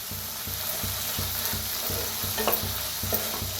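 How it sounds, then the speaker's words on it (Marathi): Radish pods (dingri) stir-roasted with oil and salt in a pan, giving a steady frying sizzle under regular rhythmic scraping strokes about twice a second, close and clear with no talking. "मीठ टाकून भाजूया, हलवून भाजून घ्यायचं"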